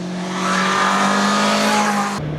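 A Honda CBR650R motorcycle, restricted version, being ridden, with a loud, steady engine drone holding a smooth tone before dropping abruptly near the end.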